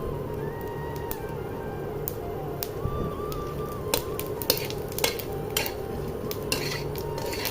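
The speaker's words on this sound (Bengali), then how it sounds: "এবার আমি দিয়ে দেব একটু জিরা ফোড়ন।" Cumin seeds crackle in hot oil in a wok while a metal spatula scrapes and clinks against the pan in irregular taps, over a soft steady sizzle.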